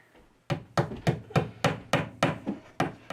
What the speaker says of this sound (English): Alright, hammer this in.